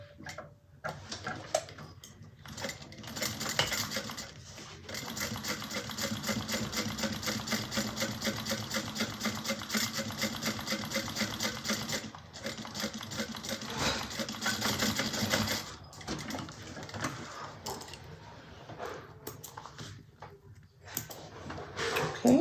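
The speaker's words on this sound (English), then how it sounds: "we're going to top stitch 1/8 of an inch away from that seam onto the side panel" A sewing machine topstitches a seam an eighth of an inch onto a side panel, running in a fast, even, rattling patter for long stretches, pausing briefly and then starting again, close and moderately quiet.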